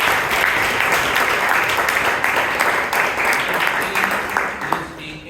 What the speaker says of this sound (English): Please give Mahaveer a big round of applause.